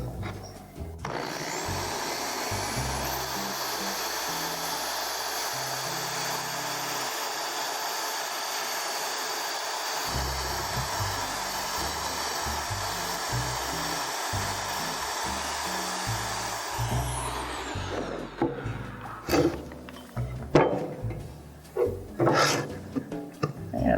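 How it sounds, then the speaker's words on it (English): A power drill bores through the center of a Disney Polynesian Village tiki wall sconce, whining loudly and steadily for about seventeen seconds before stopping. Knocks and handling noises from the workpiece follow. "I'm simply going to drill through the middle"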